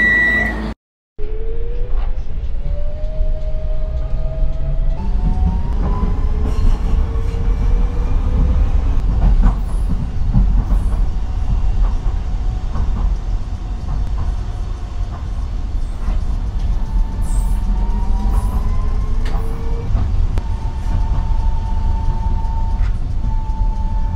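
A tram rolls between stations, a steady loud rumble of wheels and motor with rising and falling whine tones as it accelerates and cruises, brief chime at the start, no voices.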